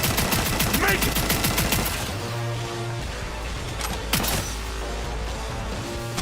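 Rapid automatic gunfire from a suppressed weapon in Cyberpunk 2077, a fast loud burst up front giving way to game ambience with a tone and a couple of sharp later shots.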